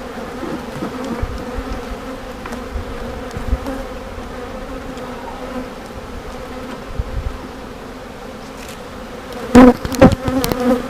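Honeybees buzz steadily around a beehive, a dense, close, continuous drone with a few louder passes near the end as bees fly right by.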